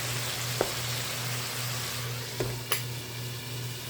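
Tomatoes being stirred and sautéed in a pan, a steady low sizzle with a few sharp utensil taps against the pan, close and fairly quiet, no talking.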